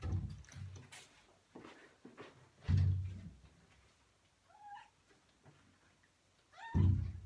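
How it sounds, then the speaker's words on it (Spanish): A house cat meows a few short times at close range, fairly quiet, between soft thumps and low indoor noise. "Ahora está maullando aquí a mis pies."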